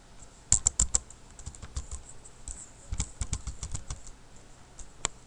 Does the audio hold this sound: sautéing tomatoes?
no